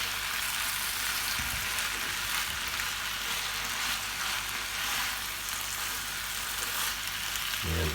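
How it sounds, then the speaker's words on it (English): Beef and noodles stir-frying in a hot pan, a loud continuous sizzle with occasional stirring clatter, close up and without talk. "I like to stir fry through those noodles as we go"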